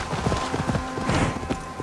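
A horse gallops in the video game Assassin's Creed Valhalla, with quick, rhythmic hoof thuds repeating steadily and close over a dense game soundscape.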